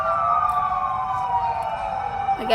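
An emergency siren wails nearby during New Year in the Philippines, its pitch sliding steadily downward as it passes, loud and continuous over low traffic rumble.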